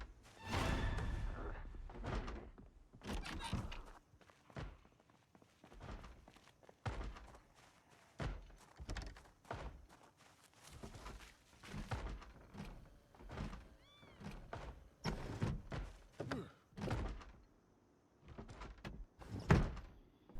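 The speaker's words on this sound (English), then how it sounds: "The zombie's just slamming his head against the door" Zombie repeatedly slamming its head against a door in Project Zomboid, a steady series of heavy thuds and bangs spaced about a second apart, loud and close with no talking.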